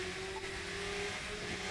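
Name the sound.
car engine revving in The Crew 2 video game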